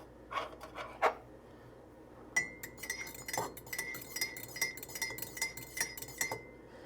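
A spoon clinks and scrapes against a mug while chaga powder is stirred into chai, giving a run of quick metallic taps and rasping strokes, close and fairly quiet, with no voices.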